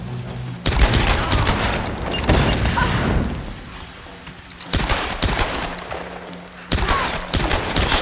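Rapid pistol gunfire in the Tomb Raider video game, loud bursts of repeated shots with impacts and debris, arriving in several clusters separated by brief quieter gaps.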